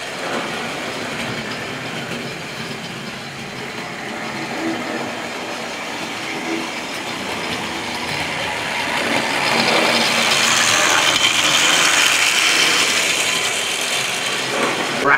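A Hornby Triang model train set runs along its track with a brake van in tow, a continuous rattling, clicking rumble that grows louder over the fifteen seconds as the train draws nearer.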